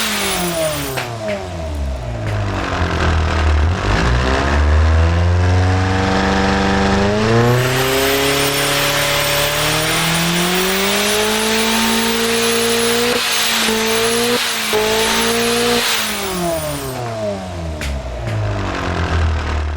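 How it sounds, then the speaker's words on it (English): A powerful turbocharged inline-4 car engine in the BeamNG.drive racing game revs repeatedly, loud and close, climbing and dropping in pitch through several surging runs, with brief tire squeal and no talking. "let's get to hear what my second rendition of my most powerful inline-4 engine sounds like"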